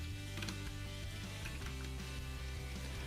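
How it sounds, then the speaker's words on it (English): Ratchet shoulder joint on a Transformers Titans Return Autobot Blaster toy, giving a quick run of small clicks as it moves, faint and close, with no talking. "you can hear that's got a nice little ratchet joint there"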